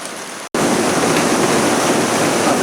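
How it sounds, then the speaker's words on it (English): Heavy rain roars as a dense, steady wash of noise, and it starts abruptly after a brief drop into silence. "I think it means it when they said heavy rain. I couldn't have filmed in this."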